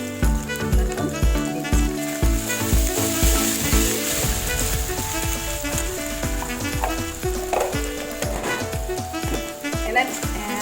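Ginger and garlic paste frying in a kadai, a continuous sizzle running beneath loud music with a steady beat throughout.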